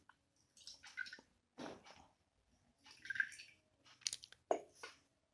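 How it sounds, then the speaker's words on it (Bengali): A liquid reagent for a copper salt identification test is poured in small amounts into three separate beakers. Several short, faint, close trickling pours are separated by quiet gaps. "এটা আমি আপাতত 3টে আলাদা আলাদা বিকারে কিছুটা করে ঢেলে নিচ্ছি।"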